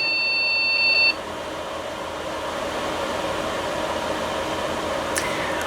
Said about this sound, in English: now we're getting post beeps, which is related to GPU